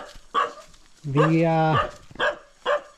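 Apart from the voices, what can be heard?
dog barking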